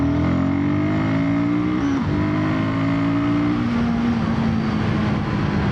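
Royal Enfield Guerrilla 450 motorcycle pulling hard in second gear, a loud, close, steady engine drone with rising pitch, a brief dip as the throttle shifts, then continued strong acceleration with wind rush and no talking.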